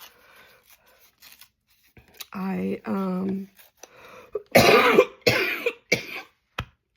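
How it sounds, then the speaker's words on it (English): Harsh coughing fits break out close to the microphone, several sharp bursts in a row near the end, after someone speaks briefly in a quiet indoor room. "Besides this cough, sorry."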